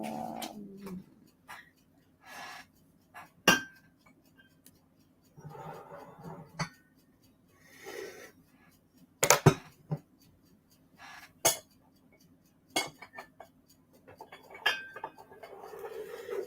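A tall milk glass vase handled on a table gives scattered light clinks and knocks, with sharp taps at irregular intervals over a faint steady background hum.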